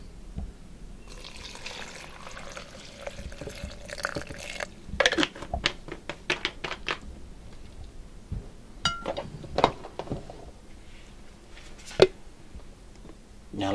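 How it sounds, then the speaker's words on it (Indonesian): Water poured into a blender jar of Indonesian spice paste ingredients with salt, heard as close trickles and drips with clinks of the jar and utensils, intermittent and fairly quiet, no talking. "lalu masukkan air"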